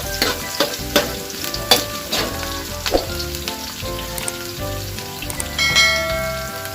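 Onions sautéing in a pan for ground pork guisado, a steady close sizzle with stirring clicks and scrapes of the utensil throughout.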